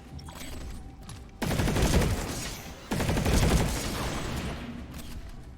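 Gunfire in the video game Planetside 2, two dense bursts of rapid automatic shots over a faint background hum, loud and close, with no talk.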